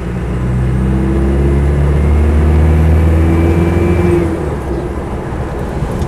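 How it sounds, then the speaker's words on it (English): A 300TDi diesel engine in a Land Rover Defender 90 drones steadily while driving, with a thin high turbo whistle sustained over the rumble from inside the cabin. "Turbo whistles up nicely, it's not smoky."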